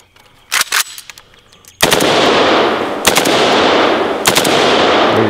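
Draco firing full auto in three loud sustained bursts, preceded by a couple of short sharp shots, the gunfire dense and close with rapid rhythm and no talking over it.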